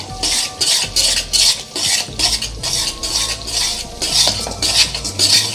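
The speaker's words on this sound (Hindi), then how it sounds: "ये ऊपर फेरने से आपको शायद एक साउंड आ रही हो, ये झाग झाग सी बन जाती है घी के साथ मिक्स होके" Semolina roasting and foaming in ghee for suji halwa, stirred with a metal spoon in rhythmic scraping strokes against the pot, loud and close, over a soft sizzle.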